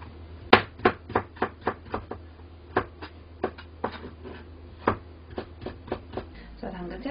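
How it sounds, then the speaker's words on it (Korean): A knife julienning carrot on a cutting board for the Chinese dish yangjangpi makes about a dozen sharp, close chopping knocks in an uneven rhythm, with short pauses between bursts. "당근도 오이와 마찬가지로 썰겠습니다."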